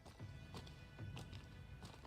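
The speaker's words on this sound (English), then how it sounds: "footsteps near the beach." Footsteps near the beach in the video game Star Citizen: a faint, steady series of soft steps, evenly paced, with no talking over them.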